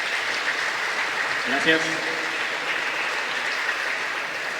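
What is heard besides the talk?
audience applause welcoming the speaker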